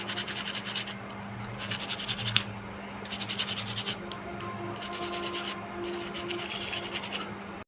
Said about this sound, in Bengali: আমি জলে ডুবিয়ে এটা ঘষে নিচ্ছি